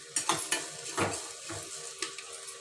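Four dried red chillies frying in a hot non-stick pan, with a quiet sizzle and several clanks and scrapes of a utensil stirring against the pan.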